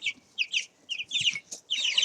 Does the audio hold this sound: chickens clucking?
yes